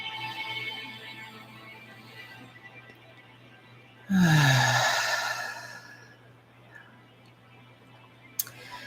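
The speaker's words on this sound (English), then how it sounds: "Let's take a deep breath in. Let your chest and belly expand. And exhale." A single deep breath released as a loud, breathy exhale for about a second, near and alone against a quiet background with a faint steady hum.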